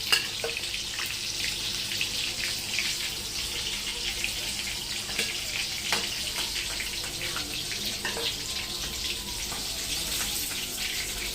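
Double-coated chicken lollipops deep frying in hot oil, a steady close bubbling sizzle with scattered crackles and pops.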